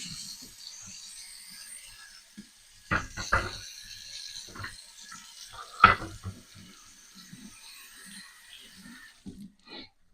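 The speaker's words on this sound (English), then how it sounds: "I'm going to rinse this board really quick." Water runs from a kitchen faucet while a wooden cutting board is rinsed, with intermittent splashing bursts and gentle trickles, close and fairly quiet, no talking.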